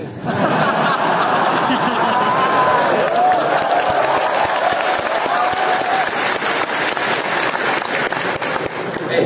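A campus audience at UGM claps loudly and continuously through a Ramadan event, with scattered chuckles and murmuring mixed into the sustained applause.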